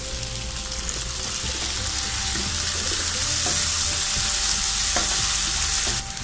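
Tomatoes with browned onions sizzle and fry in a pan over high gas flame, a steady loud hiss broken by the scrape of a spoon stirring through the mix at intervals.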